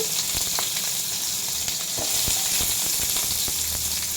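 Onions dropped into hot oil already seasoned with cinnamon and cloves give a loud, steady sizzle, with crackling pops scattered throughout and no voices.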